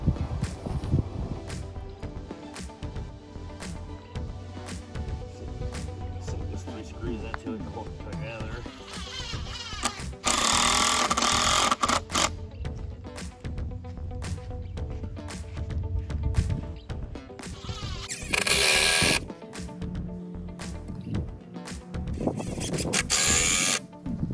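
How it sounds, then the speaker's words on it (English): A power drill whirs in several short bursts, driving screws into wood, amid clatter, handling noises and someone talking throughout. "Now I'm going to screw this together"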